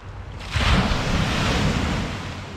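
Sea waves wash onto a Barcelona beach at dawn on New Year's morning. A soft rushing surf swells in after a quiet start and holds steady, mixed with wind noise and no voices.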